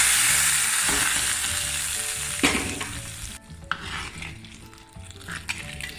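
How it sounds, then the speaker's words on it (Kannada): Hot tempering hits a Mangalorean lady finger okra curry with a loud sizzling hiss that gradually fades, punctuated by a sharp splash and clinks of a spoon or pan. "ನಮ್ಮ ಬೆಂಡೆಕಾಯಿಗೆ ಒಗ್ಗರಣೆ ಪಾಡ್ಕೊಂಜಿ"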